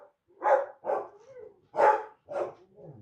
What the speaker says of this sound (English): The dogs are seeing people on the sidewalk.